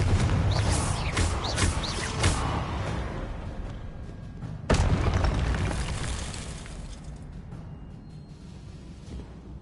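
In the Hogwarts Legacy video game, a Confringo explosive spell goes off with a sharp burst amid dense, rumbling game effects and a roaring whoosh that slowly fades, loud and close with no talking.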